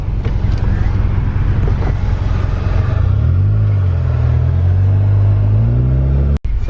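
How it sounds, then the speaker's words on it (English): A used car on a test drive, its steady engine rumble and road noise filling the cabin with some wind buffeting, close and continuous, and one brief dropout near the end. "taking it for the little test drive right now"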